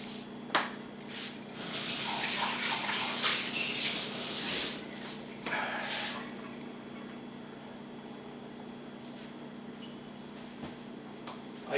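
Running tap water pours over vegetables being washed, a steady soft splash that swells and fades in a few bursts before dropping to a quiet hum, with no talk.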